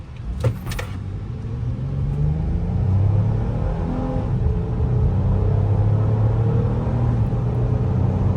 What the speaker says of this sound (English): we want to see how it accelerates from the stop